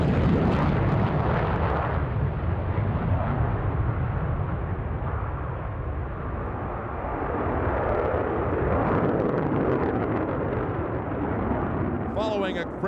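A Grumman F-14 Tomcat roars off the runway on full afterburner at an airshow over Westfield, a loud, continuous broadband thunder that holds steady for the whole stretch without letup.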